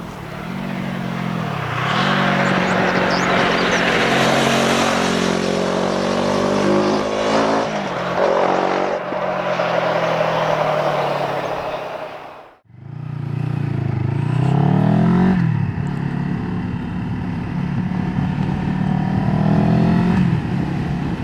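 A CFMoto 700CLX Sport cafe racer motorcycle engine drones and revs while being ridden, loud and close with rising and falling pitch, a brief cut around the midpoint, then pulling hard again.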